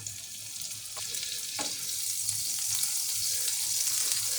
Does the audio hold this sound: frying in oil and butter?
yes